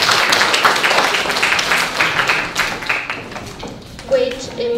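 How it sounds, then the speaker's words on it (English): Audience applause at a school music and arts concert, a steady wash of many hands clapping throughout, fairly loud and close, with a brief voice near the end. "Give them a big round of applause."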